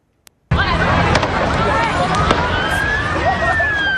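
On Bondi Beach in Sydney, a sudden wall of loud crowd noise erupts after a brief sharp crack: people scream and run amid chaotic shouting, with occasional sharp bangs of gunfire cutting through the din.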